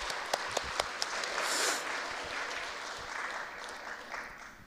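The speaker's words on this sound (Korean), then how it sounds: "우리 박수 한번 해주시기 바랍니다." Congregation applause during a church sermon on reunification: a few separate claps at first, then a sustained, moderate clapping from a gathered crowd that swells and stays steady.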